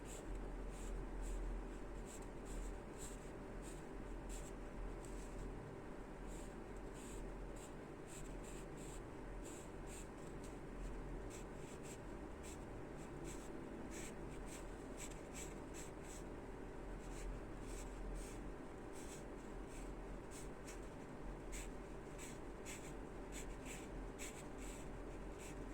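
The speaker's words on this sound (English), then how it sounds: "just draw lines and then thicken them." Pencil lines are drawn on paper while sketching a histological section of the ureter, a faint steady scratching with quick repeated strokes running throughout, quiet and close with no voice.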